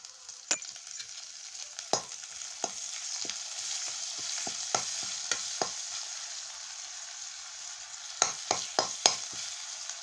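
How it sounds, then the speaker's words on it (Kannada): Garlic frying in oil in a pan on a stove, a steady soft sizzle carrying throughout with sharp clicks and taps of a stirring spoon scattered across it, bunching up toward the end; no voices. "ಚೆಂದಾಗಿ ಬೆಳ್ಳುಳ್ಳಿ ಹಸಿ ವಾಸನೆ ಹೋಗೋವರೆಗೆ ಫ್ರೈ ಮಾಡ್ಕೊಂಡು"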